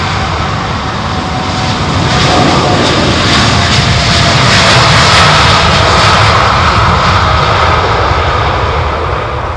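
A United Boeing 787-10 airliner roars close by at London Heathrow, a loud, steady, broad engine rumble that holds for the whole stretch with no voices.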